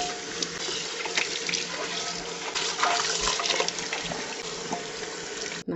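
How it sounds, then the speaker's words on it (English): Running tap water rinses out a cleaned pot in a sink, a steady close splashing rush with small clatters of the pot, continuing for several seconds before the flow cuts off. "then we just rinse this out"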